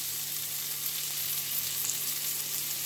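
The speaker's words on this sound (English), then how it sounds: "we're going to work this in just to cook off the flour" Butter and a couple teaspoons of flour cooking together as a roux in a pan, an even, continuous hissing sizzle held at a moderate level with no pauses.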